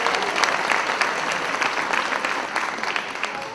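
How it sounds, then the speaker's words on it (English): An audience at a Sunrise Symphonic Pops Orchestra sellout concert gives a big round of applause, dense and steady clapping filling the hall without a break. "Let's give a big round of applause."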